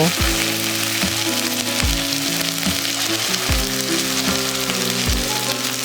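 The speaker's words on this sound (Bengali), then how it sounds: "এবারে সব মশলাগুলোকে ভালো মতো মিশিয়ে নিয়ে কিছুক্ষণ নাড়াচাড়া করে নেব" Ginger paste, slit green chillies and spices fry with a steady close sizzle while being stirred in a pan, with regular rhythmic scrapes and knocks of the spoon against the pan throughout.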